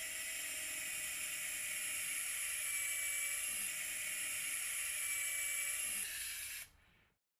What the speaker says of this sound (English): The posteromedial hole is prepared with the 5 mm drill bit through the tibia stopping at the talus.